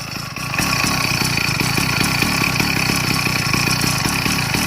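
A small motorized bike engine idles steadily and close after an exhaust flange repair, with a rapid, even putter that holds throughout.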